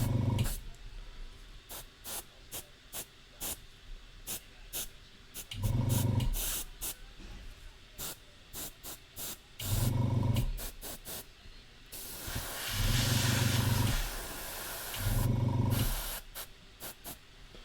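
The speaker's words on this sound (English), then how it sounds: "the cool thing about the airbrush is you just get to work and refine in and out" An airbrush spraying paint in repeated short bursts of hiss, some brief and some held for a second or two, with one longer steady spray near the end; no talking over it.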